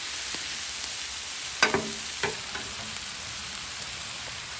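Smoked sausage and vegetables sizzle on a Blackstone griddle, a constant bright hiss punctuated by two or three quick spatula scrapes.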